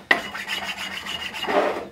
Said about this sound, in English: dust the back of it with a stone just to check for any nicks or high spots